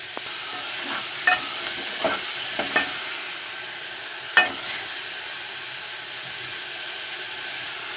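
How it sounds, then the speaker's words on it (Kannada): Curry leaves, garlic and tomato frying in oil for a ridge gourd stir-fry, a steady close sizzle and hiss with a few brief stirring clicks and scrapes from the pan. "ಎಲ್ಲ ಹಾಕಿ ಒಂದು ಸಲ ಫ್ರೈ ಮಾಡ್ಕೊಳ್ಳಿ ಎಣ್ಣೆಯಲ್ಲಿ"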